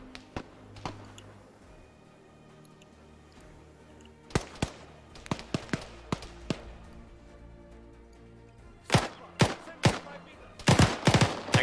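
Gunfire in the Arma 3 military game, sharp single shots and clustered bursts cracking at varying distances, sparse at first and then growing denser and louder toward the end.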